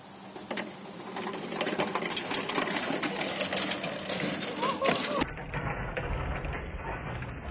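An electric go-kart drive running with a steady buzzing, rattling mechanical whir that holds at a constant pace, loud and close, with voices talking over it.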